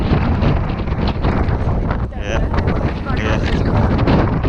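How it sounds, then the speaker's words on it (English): Gusty wind on a morning in Doha, Qatar pounds the microphone with a loud, continuous rumbling roar that swells and dips throughout without letting up. "it's pretty windy, but it's really not that cold"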